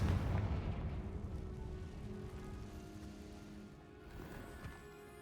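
A Confringo fire spell bursts in the Hogwarts Legacy video game, a loud booming explosion with a heavy low rumble that rolls on for several seconds.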